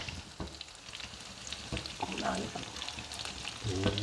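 Fish fillets frying in a pan for a masala fish fry, a steady close sizzle and crackle with occasional clinks and stirring sounds as the pieces are turned, and a voice talking faintly now and then.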